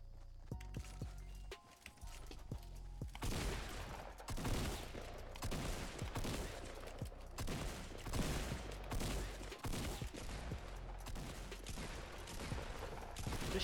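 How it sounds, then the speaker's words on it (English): A fast-firing tactical shotgun in an online shooter game lets off a dense burst of rapid shots, loud and close, over a steady background of in-game noise with no voices. "the white shot tac shotgun shoots hella fast"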